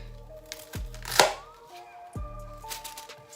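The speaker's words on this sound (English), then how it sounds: "Let me give it a nice fine chop." Knife chopping cabbage on a board: a few separate sharp cuts and crunches, close and fairly loud, under steady background music.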